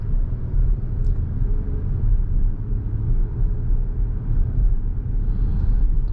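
A 2024 Acura MDX Technology with SH-AWD underway, its engine and road noise forming a steady, low, even rumble inside the cabin, with no talking.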